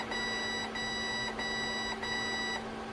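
A series of sharp electronic beeps from an RC jet boat's speed controller, four or five in a row with short gaps, high-pitched and fairly loud against a steady hum.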